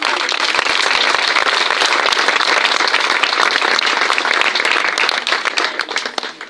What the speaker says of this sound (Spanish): Entonces un aplauso también para ella.